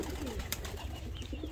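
A domestic Şinasi-breed pigeon coos softly and close by, a short low murmuring call against a quiet background of other birds.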